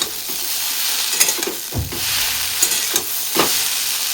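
Chowmein sizzles in a hot pan while it is stirred and flipped, a constant frying hiss broken by several scraping, tossing bursts, close up with no speech.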